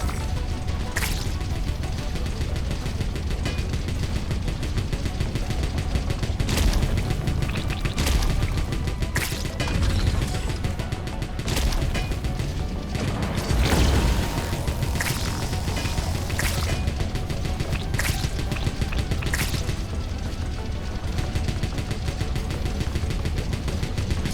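Rapid gunfire rattling nonstop in Wall World 2, a loud fusillade of sharp repeated shots and clanking impacts over a steady mechanical rumble, with no voices.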